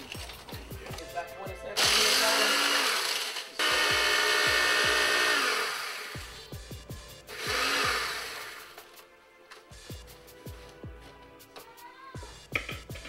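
A 27-year-old Oster blender grinding graham crackers finely, running in several loud bursts of harsh whirring and crunching separated by quieter pauses with clattering handling sounds.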